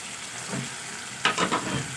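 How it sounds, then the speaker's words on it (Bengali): Fried flat beans and potatoes tipped into hot, oil-releasing masala for a Bengali bean dish, bursting into a louder sizzle with a few stirring scrapes after a quieter stretch of frying. "এবারে আমি ওই ভেজে রাখা ছিম আর আলু একসঙ্গে দিয়ে দেবো"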